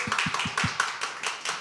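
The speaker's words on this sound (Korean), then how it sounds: "큰 박수로 축하해 주십시오, 여러분요. 네, 박수 부탁드리겠습니다." An audience at a high school church youth service claps after a cake-cutting, a quick, uneven patter of hand claps, fairly close and moderately loud, with no talking.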